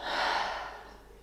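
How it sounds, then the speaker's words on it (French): A single deep breath exhaled through the mouth during a yoga relaxation (savasana). It is one long, soft, airy breath, close and quiet, that gently fades away with no talking. "Prenez une grande inspiration par le nez. Expirez par la bouche."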